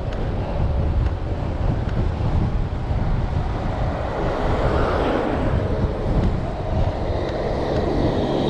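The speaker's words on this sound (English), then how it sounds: "Southerly wind going off that flag." Steady southerly wind buffets the microphone in a constant loud roar, with a flag flapping in the gusts throughout and no speech.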